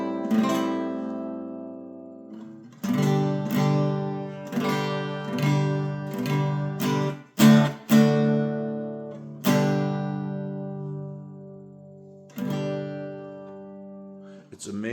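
An old archtop guitar with no maker's mark, freshly repaired, is strummed near the bridge: bright, twangy chords in irregular bursts with ringing sustain and short pauses between strums.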